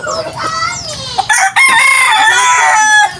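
Chickens cluck and a rooster crows loudly and close by at feeding time on a backyard poultry farm, with the long crow dominating the short burst.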